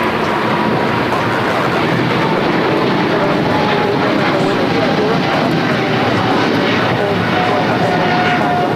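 Boeing 777-300ER airliner at Los Angeles International Airport, a loud steady broadband engine roar filling the whole stretch without letup, with voices talking over it.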